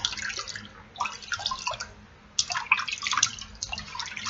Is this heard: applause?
no